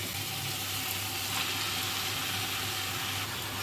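Drumstick leaves (moringa) hitting a hot pan with salt and chili powder for munagaku pappu, giving a steady, close broadband sizzle that holds evenly throughout, with a faint low hum beneath and no talking.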